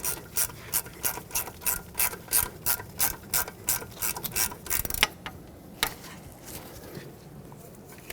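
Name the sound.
ratchet tightening bolt on Hyundai Sonata steering knuckle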